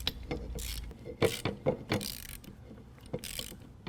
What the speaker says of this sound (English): tighten it down with a 14 millimeter